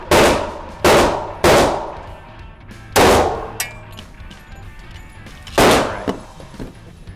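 An RIA BBR 3.10 shotgun firing outdoors on a range: about five loud, sharp blasts at uneven intervals, each with a short decaying echo, close up with no talking.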